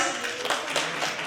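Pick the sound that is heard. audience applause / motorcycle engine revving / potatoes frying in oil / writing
audience applause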